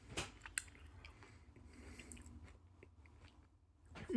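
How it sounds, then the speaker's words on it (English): Someone chews a crunchy Nature Valley peanut butter chocolate dipped granola square, with soft, close mouth noises and a few sharper bites scattered through quiet, low-level chewing and no talking. "I love how crunchy it is."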